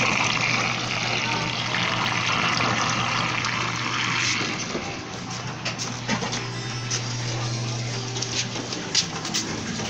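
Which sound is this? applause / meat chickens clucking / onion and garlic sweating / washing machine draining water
washing machine draining water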